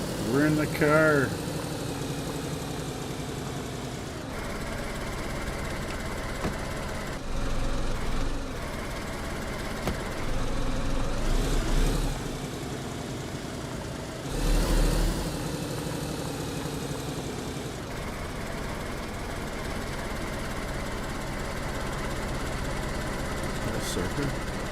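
A car engine running in the video game DayZ hums steadily at idle throughout, with low rumbling vibration and occasional louder surges, while a person talks briefly at the start.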